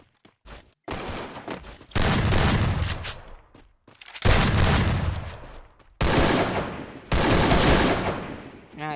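Gunfire in a shooter video game, rapid automatic bursts repeating in several long, loud volleys separated by short gaps.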